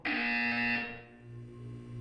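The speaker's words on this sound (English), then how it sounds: "When you hear the buzzer, look down at the floor." A loud electronic buzzer from the video game Portal 2 sounds once, a sustained harmonic tone lasting under a second before fading into a lower lingering hum.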